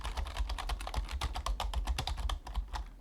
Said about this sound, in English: I am not just slamming the keyboard while the loading screen comes through.